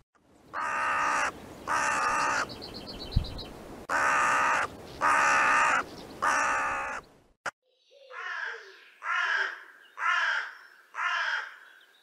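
Crow calls, a run of loud harsh caws in evenly spaced bursts, followed after a short gap by a second, thinner series of four caws, with no voices.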